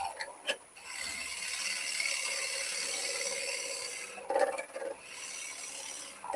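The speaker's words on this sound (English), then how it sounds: "use your spindle gouge to drill it." A spindle gouge drilling into a cherry branch on a wood lathe, with a continuous scraping, rasping cut that holds steady for several seconds, bracketed by brief sharper knocks and scrapes as the tool engages and pulls back.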